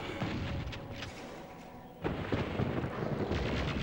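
The BFG weapon fires in Doom 64, a deep booming blast with a rumbling roar that swells, pauses briefly and then erupts again midway, fairly faint overall with no talk.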